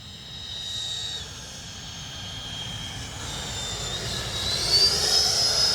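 A Freewing Zeus 90mm electric ducted-fan RC jet passes low and slow overhead, its steady whining rush swelling slightly as it nears, with no voices.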